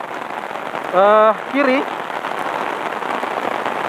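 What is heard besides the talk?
rain falling at a toll road construction site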